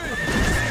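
A cartoon horse lets out a brief, loud whinny with a hint of hoofbeats underneath, lasting well under a second.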